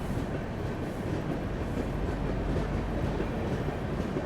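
Alappuzha Dhanbad Express train rumbling at a station before departure, a continuous low, heavy railway drone with faint mechanical clatter, no voices.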